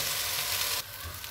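Molokhia fries in a pot with a steady, even hiss of sizzling that drops noticeably quieter partway through.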